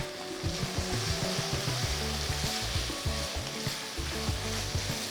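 Two finely chopped medium tomatoes go into a hot pan already holding ginger garlic paste and green chilli paste for taro root curry, and a loud close sizzle and crackle of frying runs continuously with stirring.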